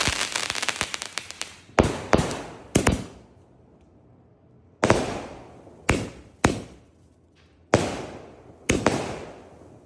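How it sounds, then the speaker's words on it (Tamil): Christmas firecrackers burst in a rapid string of sharp cracks, then single loud bangs go off at irregular intervals, each echoing briefly into quiet. "இனிமே பட்டாசு நிறைய இருக்குது அதெல்லாம் வெடித்து ஜாலியாக என்ஜாய் பண்ணணும்"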